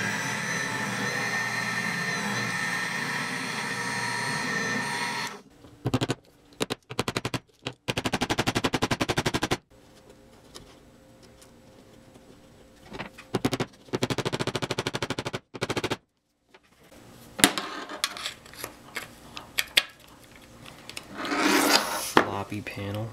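A drill bores pilot holes into wood while a radio guitar amp cabinet is being built. Loud, gritty whirring comes in several bursts, each stopping abruptly, with short quiet gaps between them.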